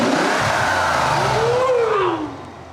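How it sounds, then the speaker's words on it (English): A Bentley's turbocharged W12 engine revs hard, its pitch sweeping up and then falling away as the engine settles back. The sound is loud and close, with no voices over it. "You hear them turbos?"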